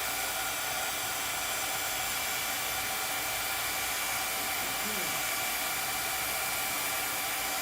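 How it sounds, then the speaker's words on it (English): A handheld heat tool blasts glaze paint on a mat as a steady, loud, even airflow roar throughout, with faint crackling of bubbling paint barely rising above it. "you can keep on just hitting the heat tool until it fuses all the way back"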